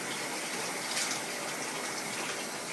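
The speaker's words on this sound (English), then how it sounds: "I'm just simply squeezing out as much excess water as I can without rushing the shade" Washed wool being squeezed by hand to press out excess water, giving a steady wet gushing and trickling sound, close and fairly quiet, with no talking.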